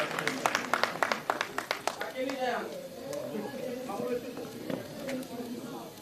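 An audience at a journalists' awards ceremony claps for an honoree, a burst of scattered, sharp handclaps that thins out into crowd murmur and voices.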